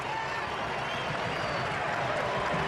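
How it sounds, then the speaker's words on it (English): A crowd of German football fans cheers after a goal in a stadium, a dense, steady roar of voices and clapping that holds throughout, heard fairly faint and distant. "The German faithful in the crowd erupt."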